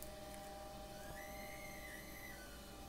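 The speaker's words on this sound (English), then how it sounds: "That is definitely my water heater. Making little whistling sounds." A faint, thin whistling tone drifts over a quiet background hum, rising slightly in pitch through the middle.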